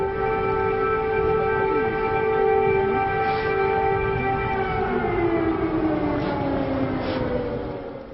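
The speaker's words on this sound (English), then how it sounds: "Air raid sirens blared across the Ukrainian capital Kyiv on the 20th of February" A wailing air raid siren sounds steadily from a distance over Kyiv, its tone slowly sliding downward, with a low rumble underneath.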